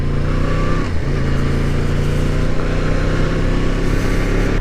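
Yamaha MT-10 motorcycle engine revving hard nearby, a loud continuous roar that climbs and holds steady at high revs throughout, with a brief dip in pitch partway through.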